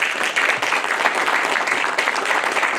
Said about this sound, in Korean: 우리와 같은 박수로 이 회의를 마치도록 하겠습니다.